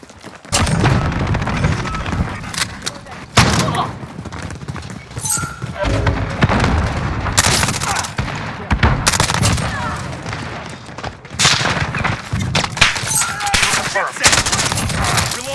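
Rapid bursts of loud gunfire from a video game shotgun battle, repeated blasts packed densely together with booms, and voices talking over the shooting.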